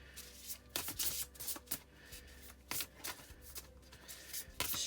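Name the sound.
shuffling oracle cards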